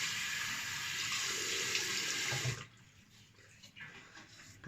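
Water runs steadily from a tap into a sink with a bright, hissing splash, then cuts off partway through, leaving faint drips and quiet room sound.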